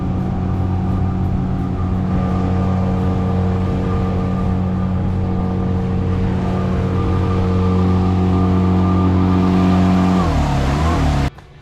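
A 20 HP Mercury outboard motor on a 2019 Bass Buggy 18 DLX runs at full throttle, a loud steady droning hum holding for about ten seconds before easing off and cutting out.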